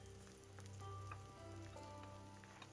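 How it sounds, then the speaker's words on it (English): Diced shallots and garlic saute in avocado oil in a skillet, a quiet, steady sizzle and crackle with faint stirring, no voices. "we saute until the shallots become translucent"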